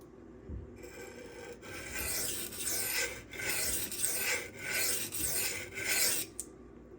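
A Damasteel Custom Knife Factory Rotten Design Evo 4.0 blade is drawn across a 1K to 2500 grit whetstone in steady, rhythmic rasping strokes, close and loud, about one pass per second with brief pauses between.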